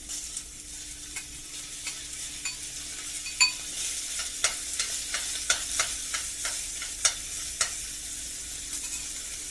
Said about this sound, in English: we're going to get it in the skillet and we're going to let it sear a little bit to get it nice and like charred and brown